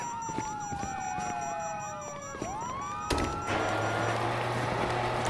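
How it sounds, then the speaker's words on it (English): Police sirens in GTA wail and yelp with rising and falling tones, then a harsher electronic blare and steady hum take over; no voices. "you hear that? Sirens."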